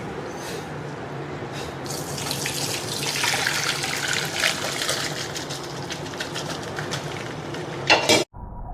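Spinach cooking in hot salted water gives a steady broadband watery hiss and bubbling, fairly close and even in level, ending with a brief clatter near the end.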